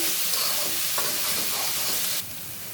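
Potato bhaji being stirred and fried dry in a pan, a loud close sizzle with soft stirring scrapes that drops slightly in level near the end, with no talk.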